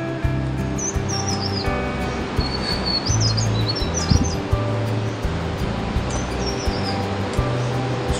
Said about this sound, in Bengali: শুধু নদীর জলের আওয়াজ আর পাখির ডাক।